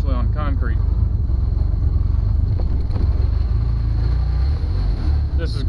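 An old Jeep engine rumbles steadily in four-wheel drive high on concrete, a loud, continuous low drone close by with brief higher whines near the start and end.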